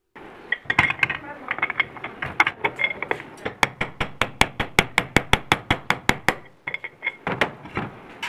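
Upper bush being worked off a steel axle on a washing machine's brass plate, a series of sharp metallic taps and clicks, speeding into a regular, evenly spaced hammering run, close and loud, with a brief pause before more taps.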